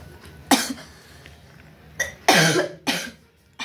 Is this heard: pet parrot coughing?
yes